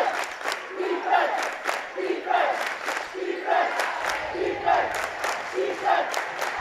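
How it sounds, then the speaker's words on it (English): Loud basketball crowd cheering and roaring in a high school gym during a tied game between Hazen Union and Montpelier boys, in rhythmic swells of shouting across the whole stretch. "Both crowds coming alive."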